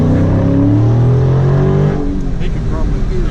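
A 2018 Dodge Charger 392 R/T Scat Pack accelerates hard, its loud engine note climbing steadily in pitch from inside the car, then settling into a rough roar.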